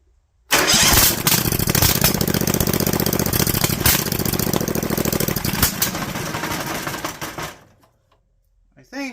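Vanguard 18hp small engine cranking and sputtering for about seven seconds in a loud, rapid, uneven chatter, then cutting out to near silence.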